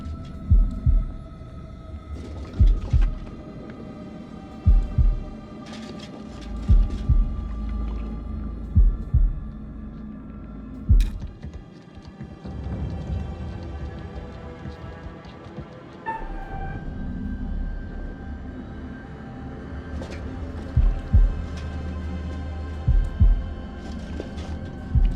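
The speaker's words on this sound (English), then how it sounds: "Heartbeat time." A heartbeat sound effect from the video game House of Ashes thumps in repeated double beats over a low droning hum, loud and close, with a sharp spike partway through.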